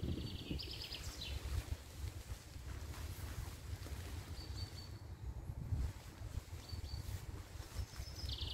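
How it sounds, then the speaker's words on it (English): Gusty wind blows outdoors among trees at a hammock campsite, a continuous rushing roar with heavy buffeting on the microphone and occasional faint high tones. "As you can see, that wind's getting up and that's not going to make for a nice night's sleep."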